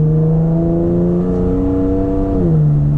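A Toyota Tacoma engine hums loud and close with a steady droning pitch that holds, then dips briefly as it is revved and eased off, heard alone from inside the cab.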